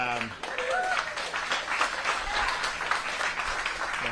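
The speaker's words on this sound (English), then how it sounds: "they're clapping." An audience at a Florida governor's news conference in Bradenton claps steadily, a broad patter of many hands heard under and between a man's speech.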